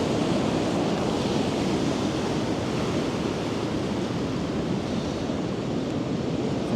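Sea waves wash back out over the shore in a steady, broadband rush of surf and spray, loud and continuous throughout with a breezy, wind-buffeted edge and no talk.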